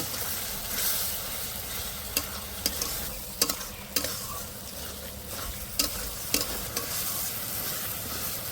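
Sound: spice masala frying and being stirred in pan

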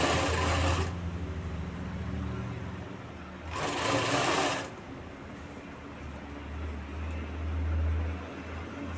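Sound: sewing machine stitching a band onto a neckline

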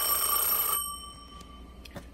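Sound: ringing telephone on a Seriss 1A2 multiline key system

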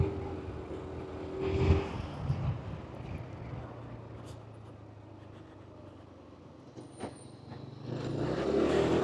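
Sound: motorcycle engine under throttle climbing a hill

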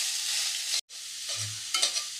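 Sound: frying and stirring bottle gourd in ghee

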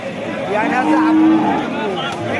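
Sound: cattle mooing at a cow market

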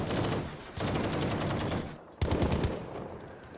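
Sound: gunfire from a machine gun in the video game Battlefield V

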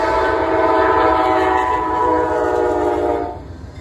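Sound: Amtrak passenger train passing

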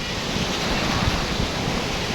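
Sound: ocean waves

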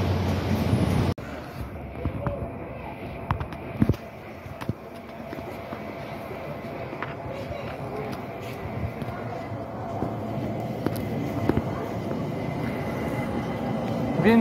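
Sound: riding inside a train arriving in Vienna

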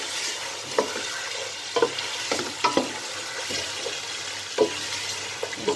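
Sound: mutton frying and being stirred in a pot

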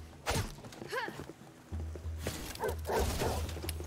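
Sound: dogs barking in the video game Asterigos: Curse of the Stars

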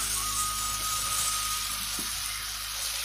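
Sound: boiled chopped flour rotis being stirred in a pan

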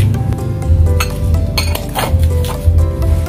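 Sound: stirring sugar and powdered milk until dissolved

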